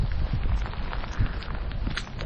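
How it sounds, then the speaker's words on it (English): Cold rain falling steadily during a walk near a campsite in Great Langdale in the Lake District, a continuous close hiss and patter with gusts of wind noise, no talk. "This rain is really cold today actually"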